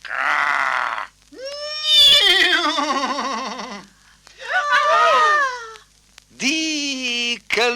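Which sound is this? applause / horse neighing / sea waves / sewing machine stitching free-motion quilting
horse neighing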